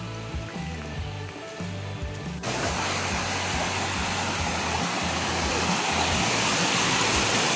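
A small waterfall and flowing forest stream on the Raigad circuit trail: a soft, steady trickle at first, then a sudden jump to a loud, continuous rushing roar that holds evenly to the end.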